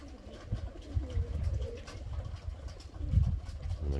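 Pigeons coo softly and repeatedly at close range in a loft with young newcomer birds, low throaty calls overlapping in an uneven rhythm over a quiet background.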